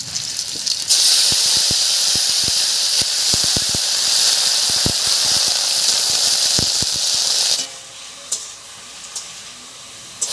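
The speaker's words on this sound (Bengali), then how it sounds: "এবারে বেগুনগুলো এর উপরে দেবো" Brinjal pieces drop into hot mustard oil spiced with panch phoron and green chillies, setting off a loud, close hiss and sizzle that holds steady, then falls sharply quieter near the end.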